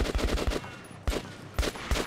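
Gunfire in Metro 2033 Redux cracks out in quick bursts, several close, loud shots in rapid clusters separated by short pauses, with no talking.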